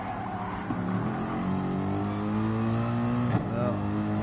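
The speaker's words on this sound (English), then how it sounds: "definitely an AMG engine, that is for sure" Mercedes-AMG race car engine in Gran Turismo Sport during an online league race, revving hard with steady harmonic drone rising and falling through gear shifts, loud and close, with a brief dip around a corner.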